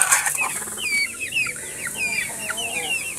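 Rhode Island chickens on a farm clucking and chirping together, many short overlapping calls, close and fairly loud, with soft background noise.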